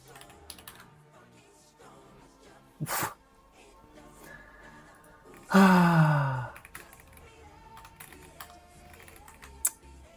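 Soft, quick computer keyboard typing runs steadily through the whole stretch at close range. It is broken by a sharp breathy burst and a louder, drawn-out vocal sound partway through.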